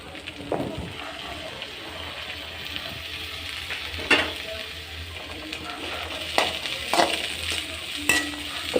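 Garlic ginger paste frying in a pan for a chayote and chana dal kootu, with a steady sizzle, occasional stirring clatters and brief splashy bursts throughout.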